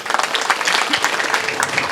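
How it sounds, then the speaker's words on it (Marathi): Audience clapping at a rain-soaked Dahi Handi event, a dense burst of many hands applauding together, loud and close throughout. "एकदा तुमच्यासाठी टाळ्या वाजवा"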